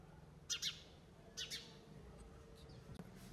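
House sparrows at a nest with chicks give a few short, high chirps in two quick pairs, faint and slightly distant over a low background hum.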